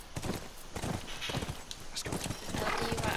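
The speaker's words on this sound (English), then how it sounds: "That's our horse." Horse in the video game The Last of Us Remastered, near ranch, with steady clip-clop hoofbeats and a whinny over a busy game soundscape, moderately loud throughout.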